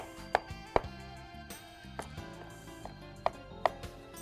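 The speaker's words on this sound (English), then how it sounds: "So we're just going to give it a chop." Knife chopping food for a lasagna, a handful of sharp, separate knocks spaced irregularly, with a low background hum and no talking.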